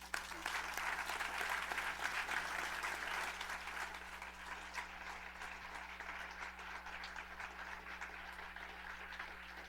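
An audience claps at a live conversation event with a religious leader, the applause strongest at first and then gradually thinning and fading, heard over a steady low electrical hum.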